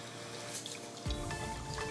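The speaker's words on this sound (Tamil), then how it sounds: "குக்கரில் தேவையான அளவு தண்ணியை ஊற்றி சிக்கன் கிழங்கு துண்டுகளை போடுங்க." Water pours into a pressure cooker for aloo chicken curry in a short, close trickle and splash that starts abruptly about halfway through, after a quieter kitchen background.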